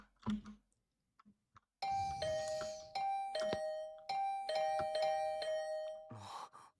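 A doorbell in the video game Hundred Line Academy rings out in a run of repeated bright chimes, loud and close, after a few soft bumps and rustles.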